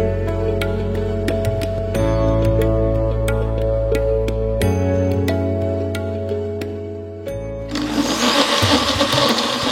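A blender grinds boiled mutton with its cooking water in a loud, steady motor whine that shifts pitch in several steps, then changes to a rougher, noisier churn toward the end.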